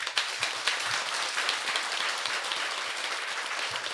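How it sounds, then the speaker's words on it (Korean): A crowd applauds continuously at a Buddhist temple dharma service, many hands clapping in a dense, steady patter that fills the whole stretch. "기쁨 하실 분만 박수 치세요"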